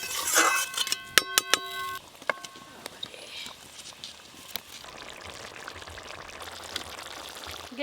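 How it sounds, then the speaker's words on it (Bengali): Water poured into a pan of well-fried curry gravy in a home Bengali kitchen, a brief rushing splash and sizzle at the start, followed by a few sharp clinks of utensils and a low steady bubbling hiss. "এবার জল দিয়ে দেবো।"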